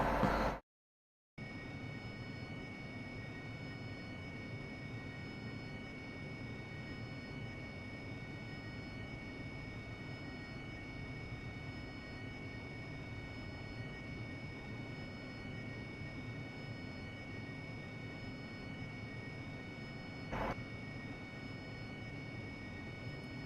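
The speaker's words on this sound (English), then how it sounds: "I just managed a hover landing coming in the Harrier." A Harrier jet from a flight game hovers in to land, its engine holding a steady, even roar with a high tonal whine after a brief cut at the start, plus a short burst near the end.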